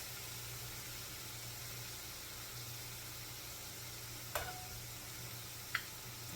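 Finely chopped onions beginning to cook in a pan for enchiladas, a faint, even sizzle with two brief utensil clicks partway through.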